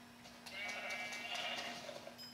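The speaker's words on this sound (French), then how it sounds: "Il faut trouver d'autres moutons le plus rapidement possible." Sheep bleating in the Minecraft video game, a few short synthetic bleats in quick succession over a steady low in-game tone, fairly clear and without talk.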